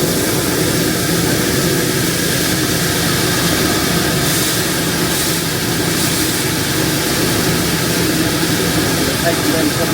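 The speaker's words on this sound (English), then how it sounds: "grain dryer is on, spinning. Intake auger running." A grain dryer and intake auger run together in a grain shed, making a loud, constant mechanical roar with a broad noisy hiss that holds steady throughout.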